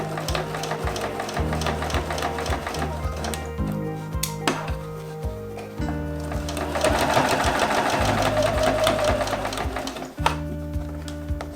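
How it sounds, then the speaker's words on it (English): A domestic sewing machine bastes the peak of a baker boy cap, stitching in several steady runs with brief pauses between bursts and a light clatter of handling close by. "Let's go to the machine and baste it in."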